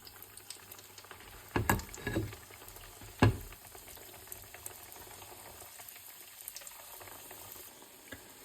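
Baursak dough pieces fry in hot oil with a soft steady sizzle, broken by a few louder bubbling bursts as pieces go in or are moved, close and fairly quiet.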